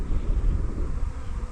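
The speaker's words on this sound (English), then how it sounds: "it's a big bloody swarm" A large swarm of honeybees at an apiary drones in a dense, steady low hum that fills the air, close and continuous, with some wind buffeting the microphone.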